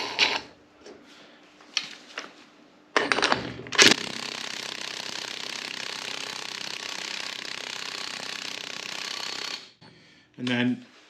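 A big castle nut being tightened onto a beach buggy's splined wheel hub: a couple of brief clicks, then a long steady mechanical whir of ratcheting and spinning for several seconds, ending with a short rattling burst.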